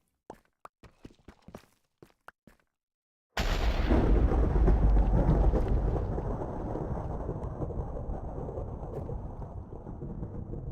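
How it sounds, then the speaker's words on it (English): Thunder from lightning in Minecraft, deep underground near the bottom of the world: a sudden loud, low rumbling crack hits after a few faint clicks, then rolls on and slowly fades over several seconds. "We should not be hearing lightning that loud."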